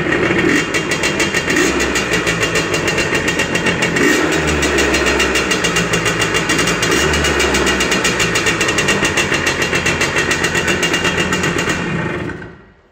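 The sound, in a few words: two-stroke motorcycle engine idling after starting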